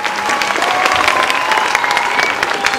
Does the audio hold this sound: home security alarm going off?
no